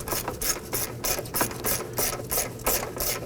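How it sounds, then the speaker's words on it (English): Rapid metallic clicking of a ratchet with an extension and 10mm socket loosening a bolt on a 2005-2009 Subaru Legacy 2.5L H4, a steady close-up rhythm of quick pawl clicks in regular bursts, with no talking. "Using our ratchet extension and 10mm socket, loosen and remove this bolt."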